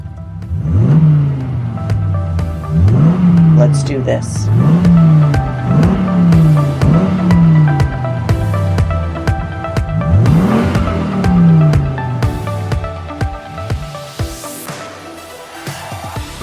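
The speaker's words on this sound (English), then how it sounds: "Start your engines." Car engine revving through about half a dozen loud, rising bursts in quick succession, then easing off and fading into a wash. A voice speaks briefly over the engine noise.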